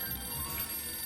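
A telephone rings in the Sam & Max video game, a brief, steady electronic trill heard faintly and alone.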